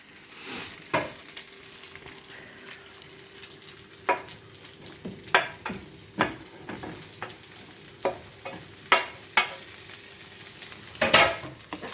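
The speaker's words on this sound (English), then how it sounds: "So those will fry nicely with a bit of the oil from the meatballs." Courgette and mushrooms sizzle steadily in a pan with oil left from cooking meatballs, a continuous close frying hiss broken by irregular clacks and scrapes of stirring.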